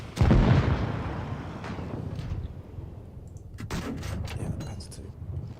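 Heavy tank cannon blasts in World of Tanks Blitz, including a Panzer II and a cruiser tank in battle: a loud close boom opens, followed by a later shot and scattered impacts over ongoing battle rumble.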